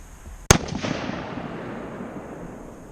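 A single sharp rifle shot from a new tracking rifle being sighted in for deer season, loud and close, followed by a long rolling echo that fades across open ground.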